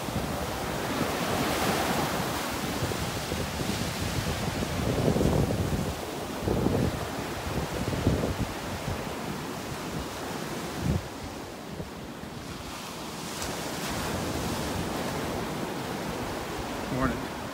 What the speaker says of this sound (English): See all the erosion we've had along the beach as well from these waves.